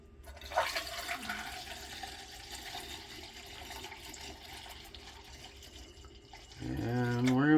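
Water gushes into a 5-gallon fermenting container for honey apple cyser, a continuous rushing pour with a splash near the start, then a rising filling tone as a voice begins speaking at the end.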